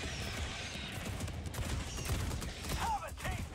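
Exo-49 Emancipator mech firing in Helldivers 2: a steady, loud barrage of rapid shots blending into dense battle noise throughout.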